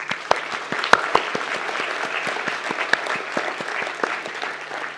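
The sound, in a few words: audience applauding graduates at ceremony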